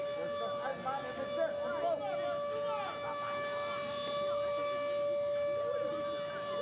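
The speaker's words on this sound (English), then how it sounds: "So I thought MHS was getting rid of the siren thing." A civil defense siren wails steadily near a baseball game, a sustained tone with rising and falling harmonics, fairly distant and continuous, while commentators talk over it.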